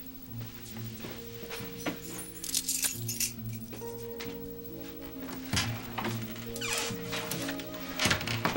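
Keys jangle and clink in a hotel room amid soft rustling and a steady musical score, with small metallic chinks scattered through the clip.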